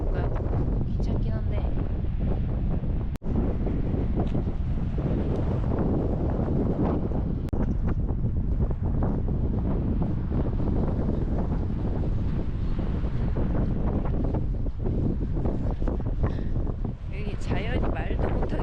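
Strong coastal wind batters the microphone at the Sutro Baths ruins near the Golden Gate in San Francisco. The roar is loud and continuous, with occasional gusty bursts throughout.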